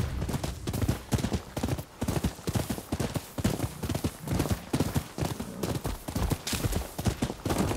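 Horse hooves clip-clop steadily in Rise of the Ronin, a continuous rhythmic trot close by and fairly loud, with no talk over it.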